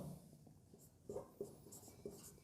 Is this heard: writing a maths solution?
yes